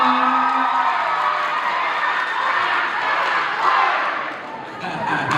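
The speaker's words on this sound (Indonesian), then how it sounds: "tepuk tangan untuk Kendris" A crowd applauding and cheering for a singer at an Indonesian talent show, a steady broad wash of clapping and shouts that swells and dips slightly before fading near the end.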